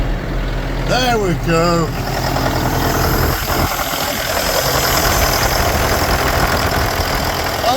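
A John Deere 6005R tractor engine is cranked over with a brief whining starter, then catches and settles into a steady, loud diesel idle that knocks slightly. Someone says a few words as it fires.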